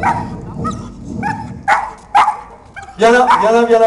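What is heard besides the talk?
fire brigade search dog barking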